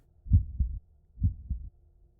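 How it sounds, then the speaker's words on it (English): Two slow, muffled double-thump heartbeats, deep and close, each lub-dub pair distinct against near silence, as a dramatic sound effect in a Planescape: Torment audiobook. "after several heartbeats, it stops"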